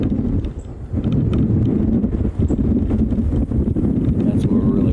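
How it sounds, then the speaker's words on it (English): Strong wind buffeting the microphone at an airport plane-spotting spot in Maui, Hawaii, with loud low gusty rumbles and brief lulls under ongoing talk. "It's getting very windy."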